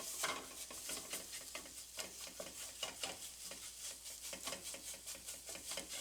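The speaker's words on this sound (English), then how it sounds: "We toast them in the hot oil." Garlic and onion powder toast in hot oil in a skillet for a Hatch green chili and sausage shakshuka, giving a faint, close sizzle with quick, rhythmic stirring scrapes and ticks.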